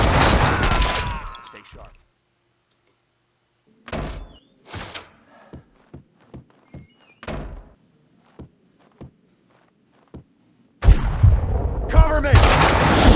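Gunfire in the video game Max Payne 2: several sharp isolated shots ring out one after another across a quiet stretch, bracketed by loud bursts of noisy firing and clatter at the start and end, with a brief spoken line in between.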